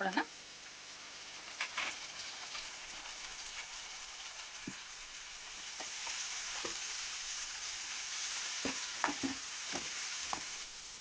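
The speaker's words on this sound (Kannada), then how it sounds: "ನೋಡಿ ಇದು ಫ್ರೈ ಆಗಲಿ ಚೆನ್ನಾಗಿ" Pan frying while vangibath is cooked, a steady soft sizzle with occasional spoon scrapes and taps against the pan, heard faintly throughout.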